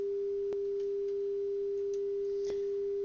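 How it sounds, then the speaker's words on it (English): A steady 400 hertz sine wave test tone holds constant and clear throughout, with two brief faint clicks breaking through, and no voices present. "since it's a 400 hertz sine wave"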